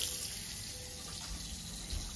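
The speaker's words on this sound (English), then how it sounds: "Then we'll come in, open up the shower," Water gushes steadily from an opened shower inside an Airstream Basecamp 20X travel trailer, a continuous close hiss and splash that holds at the same level throughout, with no voices.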